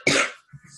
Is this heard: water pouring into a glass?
no